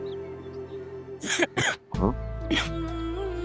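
A person nearby coughs and clears their throat in a quick cluster of three or four sharp, raspy bursts, loud and close against a quiet indoor hum.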